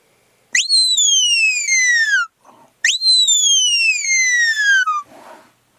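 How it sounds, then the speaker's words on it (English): A sharp, high dog-herding lie down whistle sounds twice, each a quick rising chirp followed by a long, slowly falling tone, clear and close with short pauses between. "now I'm going to move on to the lie down whistle"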